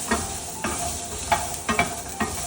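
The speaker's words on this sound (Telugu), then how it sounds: "ఈ అల్లం ముక్కలు కూడా కొంచెం వేయించుకుంటే బాగుంటుంది" Ginger pieces frying in a pan, with soft steady sizzling and several sharp scraping stirs at irregular intervals; no voices.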